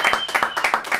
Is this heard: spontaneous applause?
yes